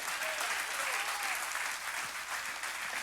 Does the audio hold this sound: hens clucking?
no